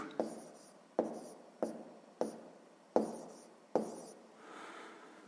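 Pen writing out a math calculation on paper for a sixth-grade exercise, heard as six distinct close scratchy strokes spaced about half a second to a second apart, then a softer rub, with no talking.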